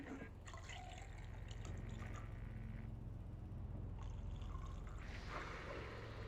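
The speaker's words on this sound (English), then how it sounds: "liquid pouring" Liquid pouring in the video game Control as a solution is applied in a lab test, a soft trickling and dripping pour in two bursts over a low steady hum, faint and without speech.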